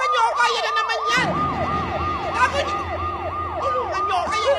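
Emergency vehicle sirens wail in a rapid repeating up-down cycle, loud and continuous, with street traffic rumbling underneath and a brief voice at times.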